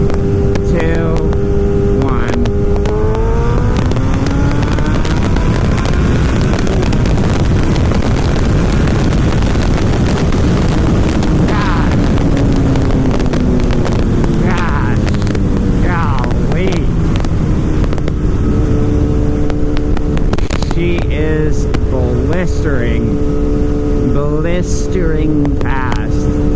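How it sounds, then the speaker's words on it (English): An old liter-class motorcycle pulls hard in second gear from about 55, its engine note climbing steadily under heavy wind roar, dropping briefly at a shift before rising again. "now I'll just do a pull in second gear for you here"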